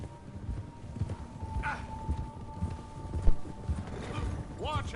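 Horse hooves clip-clop at a steady walking rhythm in Red Dead Redemption 2, close and fairly loud, mixed with game ambience while voices talk over them.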